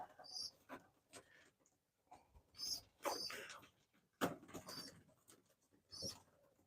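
Faint, high squeaks from young pigeons about 28 days old come in short bursts amid soft rustling and breathing-like sounds, close by and quiet.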